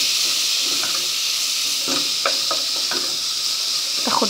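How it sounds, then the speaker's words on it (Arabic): Onion and green peppers sizzle steadily in hot ghee, a continuous frying hiss with scattered crackles and pops close by, and no voices. "هننزل عليها بالفلفل الاخضر يتشوح معانا. شايفين صوت الفشة؟"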